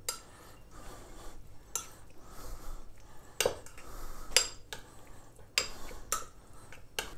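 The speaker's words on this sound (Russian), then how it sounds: "Ну и все, э, перемешиваем этот соус. Сейчас мы его перемешаем." Crab stick sauce being stirred in a bowl, with light clinks and taps of a utensil against the dish at irregular intervals, close but quiet.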